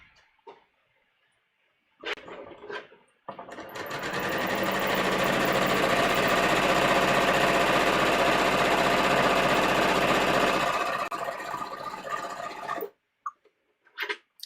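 A sewing machine runs a long steady seam on a gathered sleeve of a muslin bodice test, about nine seconds of continuous whirring stitching after a few short start-stop bursts, fairly close and with no talk.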